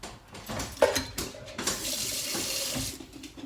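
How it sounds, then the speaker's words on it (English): Hot water runs from a tap into a kitchen sink, a close splashing gush with a few clunks at the start, then a steady fill that continues throughout, no talking. "put this in your sink of hot water"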